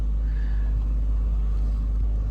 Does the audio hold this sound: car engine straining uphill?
yes